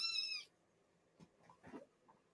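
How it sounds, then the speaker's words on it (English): A domestic cat gives one clear, fairly close meow at the start, followed by quiet shuffling and faint small noises in a room. "it's a kitty."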